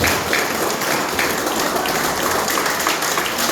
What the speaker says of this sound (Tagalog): palakpak para po sa ating Panginoon